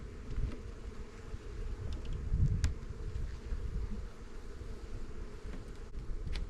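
Honey bees swarm and hum around a beekeeper at an open five-frame cell builder hive during spring queen rearing, a close, dense, steady buzz with one louder surge midway.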